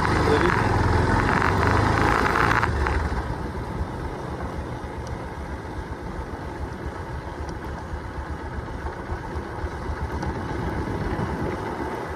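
A motorcycle engine runs on the road from Bhojpur bazar toward Bokhim, louder and rougher at first, then settling into a steadier, quieter hum with wind and road noise.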